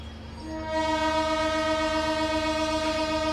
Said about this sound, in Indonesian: ada rangkaian kereta api BBM Pertamina dari stasiun Benteng